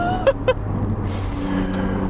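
A Maserati MC20 Cielo supercar with its roof off, driven on a track, makes a steady engine drone close by with a faint whistling turbo tone rising above it. Two short spool-like chirps come early, then a smoother continuous hum.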